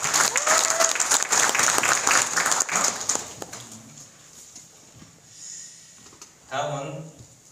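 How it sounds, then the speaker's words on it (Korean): Audience applause welcoming speakers to a political talk concert in Pyeongtaek, dense loud clapping for about three seconds that thins and fades, followed by quieter murmurs and a brief voice. "큰 환영의 박수 부탁드리겠습니다."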